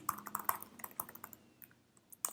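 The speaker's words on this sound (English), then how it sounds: "You can watch me typing." Typing on a computer keyboard, a quick irregular run of close, quiet key clicks with short pauses and a final cluster of taps.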